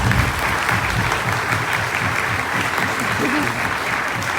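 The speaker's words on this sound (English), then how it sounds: "If you could give her a little round of applause." An audience at a Cathedral High School ceremony breaks into loud, sustained clapping for a speaker's mother. The applause stays even throughout, with faint voices murmuring underneath.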